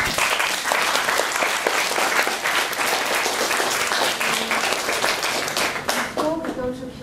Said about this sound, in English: Let's give a big applause to all of them.